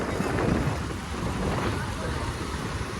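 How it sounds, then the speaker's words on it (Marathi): Rain and wind buffet the microphone in a rough, continuous rush, with irregular low thumps from drops striking close by. "कॅमेरावर पाऊस पडत आहे"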